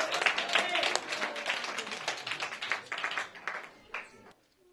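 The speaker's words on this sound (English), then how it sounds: "Give him a big round of applause" Audience clapping for a senior performer at a high school poetry slam, a dense burst of applause that thins out and fades to near silence after about four seconds.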